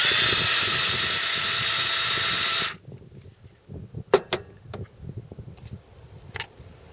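A power drill backs out screws on an RV plumbing vent, a loud continuous whirring run that stops abruptly, followed by quieter scattered clicks and handling knocks.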